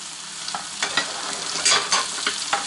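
Roach fish frying in a pan, a steady close sizzle of hot oil broken by several louder crackling bursts and spits, with no talking.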